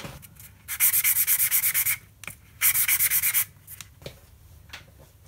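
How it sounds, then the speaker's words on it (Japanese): Sanding a plastic road wheel part from a Hachette Type 74 tank model kit: two runs of quick, even back-and-forth rasping strokes, close and crisp, with a few short single scrapes between them. "ここはあの、ヤスリをかけるだけでいいかなと思います"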